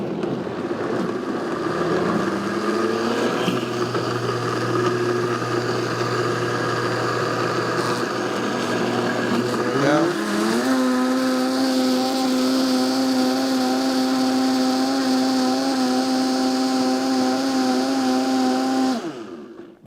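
A powerful blender whirs loudly and steadily for about twenty seconds while blending grapes and lemon, its motor pitch climbing partway through as the contents break down.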